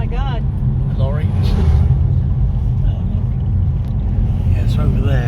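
Lorry passing on a mountain road toward Ivalyovgrad, a steady loud engine rumble heard from inside an old car, with voices talking over it throughout.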